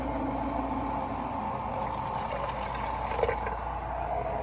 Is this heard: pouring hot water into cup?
yes